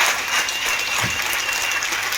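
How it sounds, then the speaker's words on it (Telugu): Short, even burst of audience clapping in a seminar hall, sustained and fairly loud without any break. "మీ అప్లైన్కి క్లాప్స్ ఇవ్వండి ఫస్ట్"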